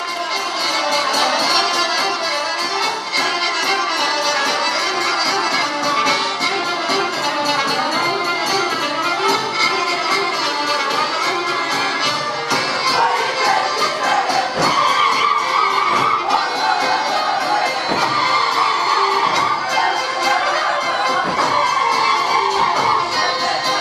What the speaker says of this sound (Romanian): Aplauze pentru ansamblul folcloric Rotunda!